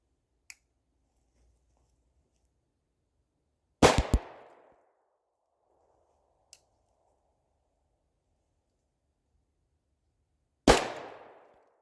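A Bond Arms Ranger II fires light number 8 shotshell target loads at a paper target outdoors. Two loud, sharp reports come several seconds apart, each trailing a short echo, with faint clicks in between.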